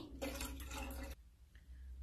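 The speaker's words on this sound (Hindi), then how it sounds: "अब इसमें ऐड करेंगे पानी" Water poured into a saucepan holding tamarind pulp for chutney, a steady broadband splash lasting about a second before cutting off, followed by quieter kitchen ambience.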